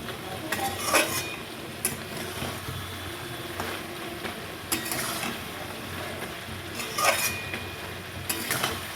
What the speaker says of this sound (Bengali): চাল কুমড়োটা আমি একটু নেড়ে দিচ্ছি